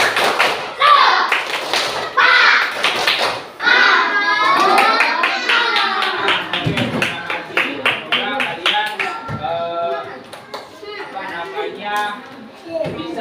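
Children at a coding training session chant together while clapping out the rhythmic tepuk semangat pattern, sharp grouped claps and taps punctuating loud sung voices throughout.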